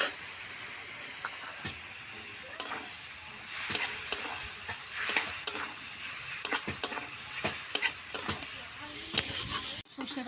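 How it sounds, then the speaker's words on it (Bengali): Mustard paste fries with a green banana curry in a pan, giving a steady, close, loud sizzle and hiss punctuated by repeated sharp clicks of stirring throughout. "সর্ষে বাটা দিয়ে আমি বেশিক্ষণ কষবো না, তাহলে তেতো হয়ে যাবে।"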